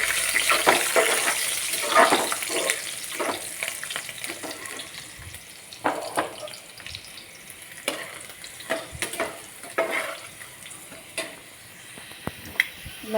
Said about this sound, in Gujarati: હવે હિંગ જીરું સાંકળી ગયું, આપણે લસણની કળી નાખી દઈએ.